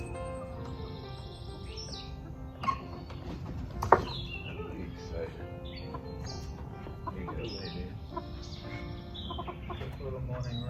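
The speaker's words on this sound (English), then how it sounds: "I'm gonna go let the chickens out so they can have a quick little run." Chickens cluck and call softly nearby over a steady background hum, with a few brief louder knocks or squawks.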